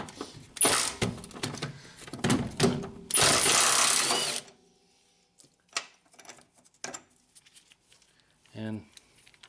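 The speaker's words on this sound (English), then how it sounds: "now we'll remove these two upper arm bolts. Just using a 14mm socket" A 14mm socket with a swivel extension on the upper arm bolts of a 1996-2000 Honda Civic, with loud bursts of ratcheting and mechanical whirring followed by quieter scattered clicks and taps, close by.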